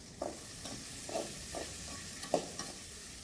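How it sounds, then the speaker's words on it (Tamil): Onion and green chilli fry in hot oil in a pan as a quiet sizzle runs underneath, with soft stirring scrapes about every half second and no voices. "இது பொரிஞ்ச உடனே நம்ம வெங்காயம் போடுவோம்மா. அதுலேயே அந்த ஒரு பச்சை மிளகாய் வச்சுருக்கோம், அதையும் போட்டுக்குவோம்."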